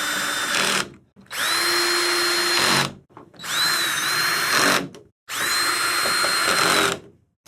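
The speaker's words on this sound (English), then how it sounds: "if you use a drill, make sure you use one with a clutch" A power drill with a clutch drives fasteners into TV stand legs in four separate whirring bursts with short pauses between them, close and clear with no voices.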